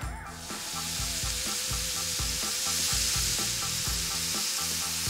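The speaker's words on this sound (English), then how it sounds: "I've got a pound of grass-fed beef, and we are going to brown it." A pound of grass-fed beef browning in a hot pan for Tex-Mex queso, with a constant loud sizzle and frying crackle, close up and without any voices.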